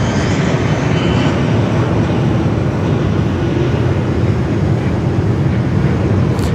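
The Qantas 8 flight from Dallas-Fort Worth taxis at Sydney Airport. Its jet engines give a loud, constant broadband roar with no break, heard fairly near and without talking.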